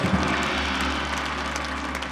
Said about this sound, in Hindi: दोनों हाथ खोल करके जोरदार तालियां बजाएं